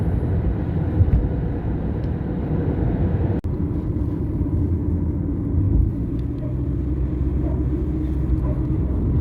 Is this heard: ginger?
no